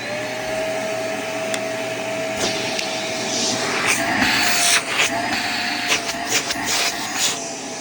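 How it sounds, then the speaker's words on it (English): A Shark Navigator Swivel Pro vacuum cleaner runs in carpet mode with a steady, close, loud roar and a constant high whine, and its pitch and intensity shift a little as it moves across the carpet. "suction test, and we're going to run it on the carpet mode and see how this thing performs"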